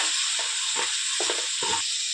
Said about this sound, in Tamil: இப்போ பொடியாக நறுக்கி வச்ச தக்காளியை சேர்த்து நல்லா வதக்க போகிறோம்.